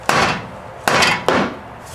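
Three heavy hammer blows on a front strut suspension part of a 2010-2013 Mazda 3, sharp and loud, the first two evenly spaced and the third following quickly, each ringing briefly before fading.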